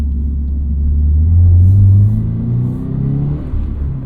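Low, steady exhaust drone from a 2025 Toyota GR86 Hakone Edition with the stock performance exhaust, heard from inside while cruising, swelling slightly in pitch and then easing, with no one talking.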